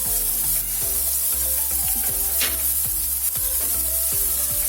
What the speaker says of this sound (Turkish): Domateslerimi de karıştırıyorum.